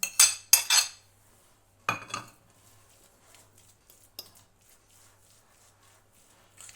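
Grated carrot is mixed into a sandwich spread in a bowl, with a few loud close clinks and scrapes of a utensil at the start, then sparse faint taps with a low steady hum underneath.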